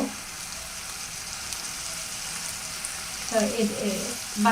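Bamboo shoot curry with prawns sizzles and fries in a pan: a steady, close crackle throughout, with a voice briefly rising over it near the end.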